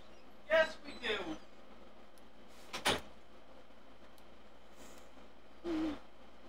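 Owl hoots in the video game House Flipper 2 sound faint and spaced out over a quiet background, with a few soft knocks in between.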